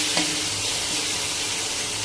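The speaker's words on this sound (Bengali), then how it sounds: "এখন রান্না করবো পেঁয়াজ কিছু" Onions frying in a pan, a steady close sizzle filling the kitchen with a brief stir or clink near the start and no talk.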